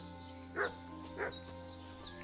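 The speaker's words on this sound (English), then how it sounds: "I can hear you barking." Two short barks from a wild dog in a video game sound against a steady electronic hum, with faint chirping tones repeating in between.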